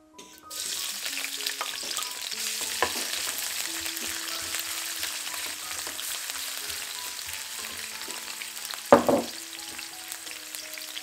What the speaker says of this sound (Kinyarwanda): Igitunguru cyacu noneho dukomeze tubikaranga